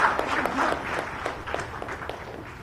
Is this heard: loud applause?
yes